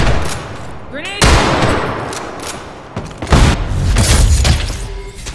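A grenade blast and bursts of gunfire in the Ghost in the Shell: First Assault shooter game, loud and close: heavy booms and rapid shots overlapping in dense, chaotic fire.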